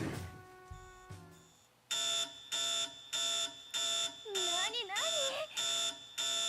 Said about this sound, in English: There was an alarm planted on it?